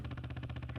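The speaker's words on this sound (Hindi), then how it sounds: "ये पीछे किसी मोटरसाइकिल की आवाज है।" Faint cruiser motorcycle engine idling somewhere behind a video call from a flat, a low steady rumble pulsing evenly throughout.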